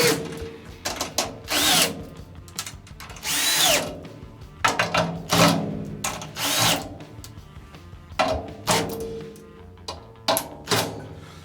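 A power drill whirs in repeated short bursts, revving up and stopping over and over, with clicking and clanking between bursts as drum lugs are tightened.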